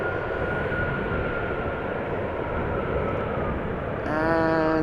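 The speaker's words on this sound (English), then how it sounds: "German Airways Embraer 190 flying for KLM" A German Airways Embraer 190 jet flying for KLM arrives from Stuttgart, a steady broadband engine roar holding throughout with a whining tone rising near the end, close and loud.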